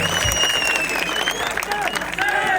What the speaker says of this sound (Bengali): জোরে জোরে হাততালি দুই টিমের জন্য